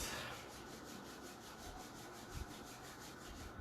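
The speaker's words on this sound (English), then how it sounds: "Rub the palms." Palms rubbing briskly together during a yoga session, a steady soft broadband swishing that carries on evenly throughout, close by.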